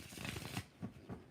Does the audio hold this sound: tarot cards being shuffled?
yes